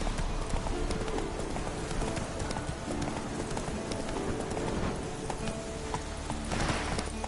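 Roach, a horse in a video game, gallops with rapid, rhythmic hoof clip-clops that run steadily throughout, up close and fairly loud over game ambience.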